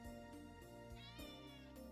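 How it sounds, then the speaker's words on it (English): A house cat meows repeatedly in a cozy visual novel game, its calls soft and close over a steady bed of background music. "One of Shiori's cats, Pepper, rubs against my legs and looks up at me with curious eyes"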